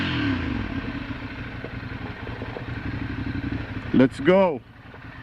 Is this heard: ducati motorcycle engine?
yes